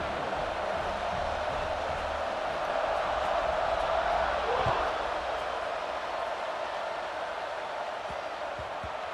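Stadium crowd in the EA Sports College Football 26 video game: a steady, broad roar from the stands holds throughout at even loudness and swells slightly near the middle.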